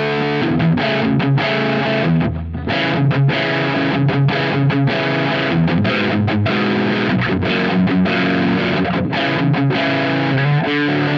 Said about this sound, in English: let's try with no distortion and only the gain boost all the way up